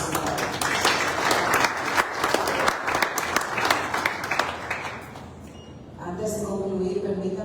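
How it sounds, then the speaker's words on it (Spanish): Applause from the audience at a commemorative colloquium, brisk clapping for about five seconds that then dies away as a speaker's voice takes over. "Así que el aplauso ahora sí."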